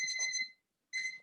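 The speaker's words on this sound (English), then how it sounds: "that's my timer for cooking it" A kitchen cooking timer alarm rings in two loud bursts of repeated high electronic beeps, separated by a short silent gap.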